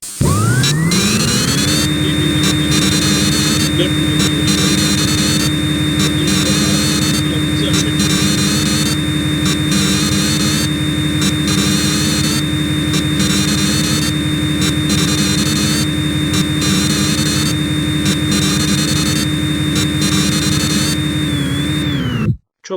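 CNC lathe running a G75 grooving cycle, with a loud continuous machine drone and a steady high whine rising at the start, pulsing mechanical texture throughout, then cutting off abruptly at the end.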